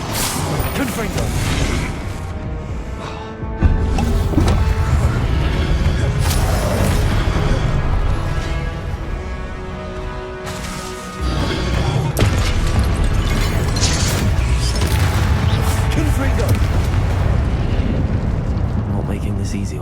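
Fiery blasts of the Confringo explosive spell boom repeatedly through a dense, loud Hogwarts Legacy battle, with heavy impacts layered over a continuous wash of game music and effects.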